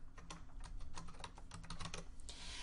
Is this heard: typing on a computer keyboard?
yes